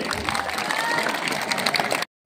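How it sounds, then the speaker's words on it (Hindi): Steady crowd applause with some cheering fills a welcome ceremony for a new lieutenant in a village, continuous and fairly loud, then it cuts off abruptly near the end. "तालियों की आवाज रुकनी नहीं चाहिए।"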